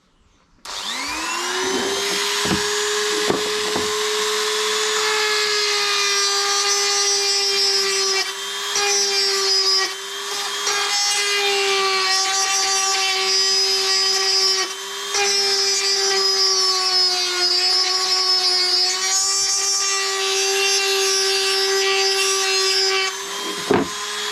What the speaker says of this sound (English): I'll put the grinder back in there. Dremel that out nice and clean.